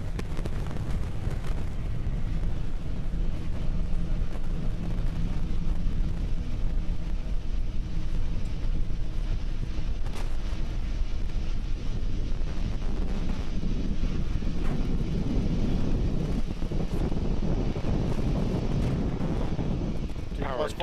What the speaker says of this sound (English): We're currently throttling down the 9 Merlin 1D engines on the first stage